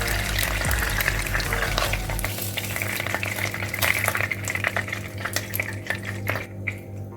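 Fish frying in oil in a pot half-covered with its lid, a steady close sizzle with light clinks of utensils against the pot, no voices.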